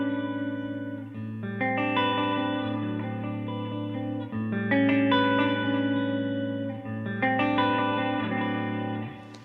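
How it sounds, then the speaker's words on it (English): An electric guitar is played through a longer delay with reverb, its sustained chords and picked notes ringing out with trailing repeats and a wash of ambience, steady and fairly loud with no talking. "On the second tone, I like something that's a little bit of a longer delay,"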